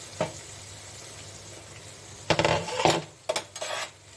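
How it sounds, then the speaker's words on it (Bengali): Lid lifted off a cooking pot of sojne data chorchori, one faint clink followed by a few sharp metallic scrapes and clatters of the lid against the rim, close and brief amid quiet kitchen background. "এখন আমি ঢাকনাটা খুলে দেখি"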